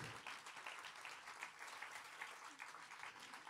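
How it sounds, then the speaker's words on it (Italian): A concert audience at the Ossola Guitar Festival 2022 applauds a guitar piece, a faint, distant wash of steady clapping lasting several seconds. "Questo era il momento dell'applauso che ha rubato prima."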